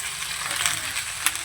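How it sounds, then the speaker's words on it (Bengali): Malabar spinach leaves and stems being stirred in a hot pan for a fish-head chorchori, giving a steady close sizzle with soft scraping and small crackling pops. "সবজিগুলো ভালো করে একটু নেড়ে চেড়ে নেব"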